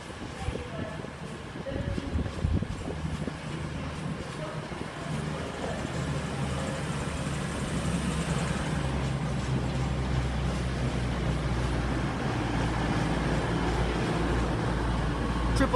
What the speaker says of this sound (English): And also arriving on platform number 1 is your 18, 25, 1 Foxtrot 55